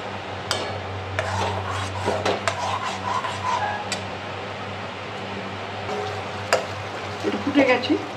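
A cashew mixture cooks in a pan, giving a continuous close sizzle and bubbling. Sharp spoon clinks and scrapes against the metal come through at scattered moments.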